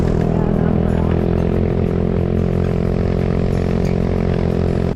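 A motorcycle engine runs close by with a loud, steady, low rumble that holds without revving for several seconds.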